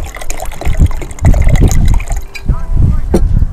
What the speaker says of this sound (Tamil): தண்ணியை விடுவோம்